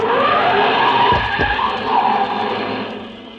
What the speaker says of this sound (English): a car started up down the street